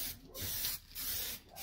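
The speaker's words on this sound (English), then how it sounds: "Just going to put some sanding sealer on." Three hissing bursts of sanding sealer sprayed onto a wooden bowl, each about half a second, separated by brief pauses, close and steady with no talking.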